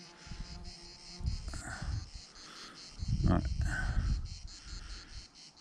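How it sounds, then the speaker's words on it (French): A large bumblebee buzzing near lavender outdoors, a low droning hum that swells and fades as the insect moves close and away, heard under a brief spoken word and background outdoor noise. "Un gros bourdon, là."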